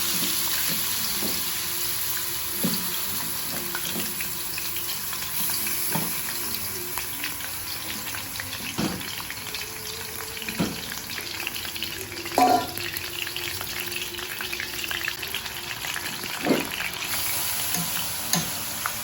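Ground beef fries in cooking oil for homemade pansit Malabon, a continuous close sizzle broken by scraping stirs and occasional sharp clinks from the pan.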